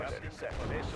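Units firing weapons in the real-time strategy game Red Alert 2, a quick burst of low booming gunfire rolling through about a second at a modest level.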